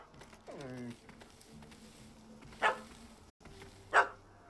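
A puppy barks and yips in a run of short rising calls, then two sharp, louder barks follow a few seconds apart, set in The Witcher 3 game scene beside a cat up a tree, over quiet ambient background.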